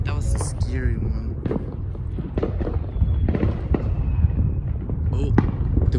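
Fireworks bursting over a house on the Fourth of July: a run of sharp bangs and crackles, some loud and close, with people talking over them and a little wind buffeting the microphone.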